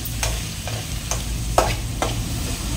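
Raw plantain stirred as it fries in a pan, with a steady close sizzle broken by a handful of scraping spatula strokes at uneven intervals.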